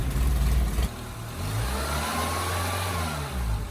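A 1987 Toyota Corolla AE86 with a dead alternator idles low, a steady, close engine rumble with a slight dip in the middle and no talk over it.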